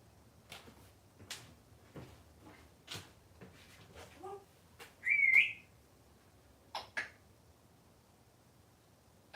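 A cockatoo gives a short, bright rising whistle about halfway through, standing out between scattered clicks, taps and small household knocks in a quiet room.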